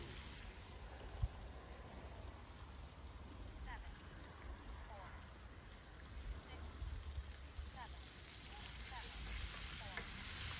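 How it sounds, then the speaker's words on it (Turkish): Tomatoes frying in a pan over a wood fire on an outdoor hearth in a garden: a steady soft sizzle and crackle with occasional small pops and stirring clicks, fairly faint and continuous. "bu şey domates doğru kızartacağım şimdi üzerine."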